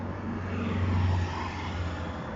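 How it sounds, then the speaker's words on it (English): Traffic on a busy street in Nottingham gives a continuous low rumble of passing cars, with a swelling engine drone near the middle and no talking. "Apologies for the noise. This is a busy street in Nottingham"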